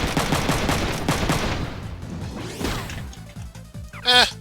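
Machine gun fire in the video game Front Mission 3, a dense rattle of shots filling the opening seconds, then thinning into scattered hits with a sharp metallic burst near the end.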